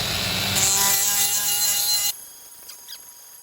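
A sander grinds a port on a Holley Hi-Ram intake, a loud harsh rasping whine lasting about two seconds before cutting off abruptly, followed by faint taps.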